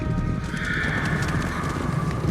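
Hooves of a white horse wearing a golden bridle clop steadily on a forest path at night, a continuous close rhythm of hoofbeats over a dense rumbling background.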